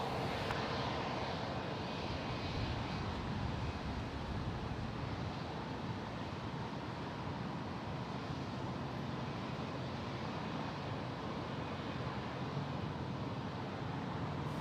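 A Delta airliner taxiing at San Jose International Airport gives a continuous broad jet-engine roar with wind buffeting on the microphone, steady and moderately distant, with no voices.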